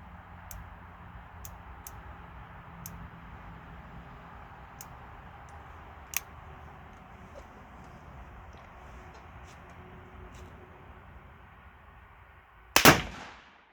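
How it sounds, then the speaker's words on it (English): At an outdoor shooting range a single loud gunshot goes off after a long, delayed hang fire, preceded by faint ticking and clicks over quiet background hiss. "Definitely a hang fire on that one."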